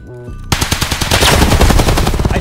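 Loud, close automatic gunfire in Escape from Tarkov erupts suddenly after a brief tonal lead-in, a dense rapid burst of shots continuing to the end.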